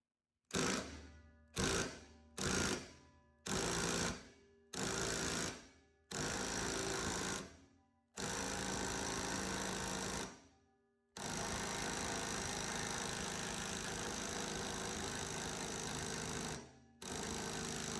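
Impact wrench hammering at a stuck nut or bolt: loud, close bursts that start short and separate, then grow longer, ending in two sustained runs of rattling impacts with brief pauses between them, no talking.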